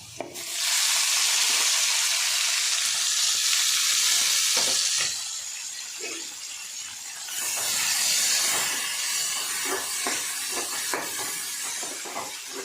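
Tomatoes dropped into a pan of fried onion and curry leaves, a loud hissing sizzle that eases off and then swells again, with light stirring clinks throughout.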